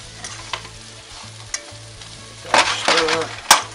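Food fries on a kitchen stove burner as a spoon stirs it, giving a soft steady sizzle broken by sharp scrapes and clatters, then a louder burst of stirring near the end, with a low electrical hum beneath.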